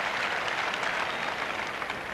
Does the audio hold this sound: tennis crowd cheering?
yes